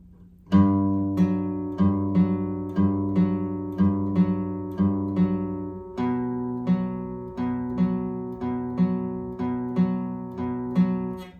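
Clear acoustic guitar riff from a song played slowly, evenly spaced plucked notes ringing and repeating through the passage.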